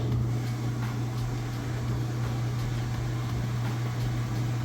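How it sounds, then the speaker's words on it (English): A Maytag washing machine spins fast after braking to a stop and speeding back up, giving a steady loud hum with a strong low drone and even mechanical whir throughout, no voices. "but you'll still be able to see that it's spinning nice and fast."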